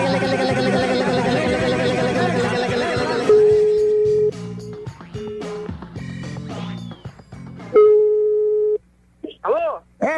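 Within a prank phone call, a telephone line sounds a run of steady electronic tones, including a busy signal, after loud talking, with brief voices near the end.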